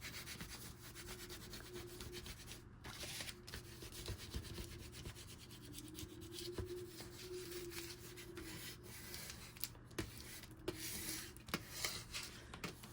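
Squeegee tool rubbed over glued paper on chipboard for an album cover, giving a steady soft scraping and rubbing texture for several seconds with a few sharper strokes, close and fairly quiet.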